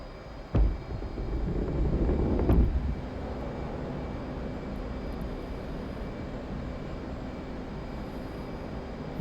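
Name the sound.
jet engine afterburner in the video game DCS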